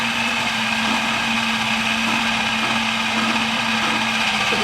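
A steady, loud motorized whir, like a hand mixer or blender, runs continuously while cream cheese and mayo are mixed together, close and unbroken with no talking.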